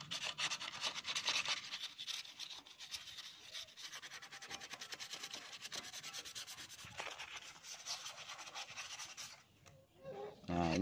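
Steady rubbing and scraping as rust is cleaned off the magnet and iron core of a seized water pump motor, a continuous close abrasive scrubbing that runs for several seconds, easing briefly near the end before a louder burst.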